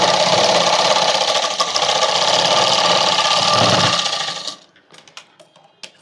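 A sewing machine stitches a cotton children's night dress in one loud, fast, continuous run for about four seconds, then stops, leaving a few soft handling clicks.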